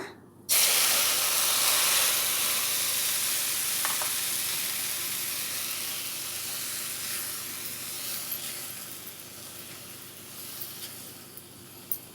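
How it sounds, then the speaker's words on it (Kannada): Warm milk is poured into grated dry coconut in a hot pan for coconut laddu, setting off a loud, steady sizzle and hiss up close that slowly eases over several seconds. "ಈ ಒಂದು ಕಪ್ಪಷ್ಟು ನಾನು ಹಾಲು ಹಾಕ್ತಾ ಇದ್ದೀನಿ"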